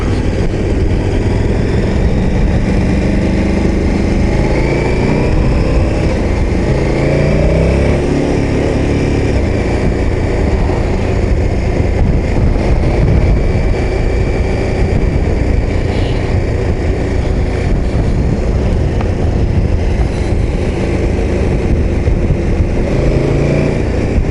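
KTM 1290 Super Adventure S motorcycle underway, its engine a continuous loud drone mixed with wind rush, with slight rises and dips as it changes gears through a quickshifter.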